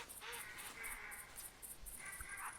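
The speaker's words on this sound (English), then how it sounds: "Oh, Lord, so many damn ducks" Ducks calling in the video game theHunter: Classic, a bayou hunting setting, with a rapid run of harsh quacks and squawks over steady ambient hiss, moderately close and fairly faint, no talking.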